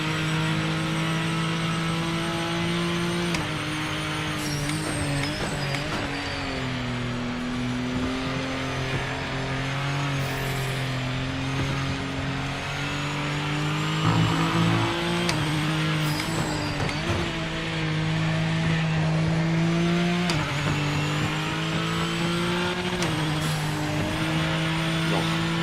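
A Ford GT GTE-class race car engine in the Project Motor Racing video game drones loudly and continuously, its pitch rising and falling through repeated gear shifts and throttle changes over the whole stretch.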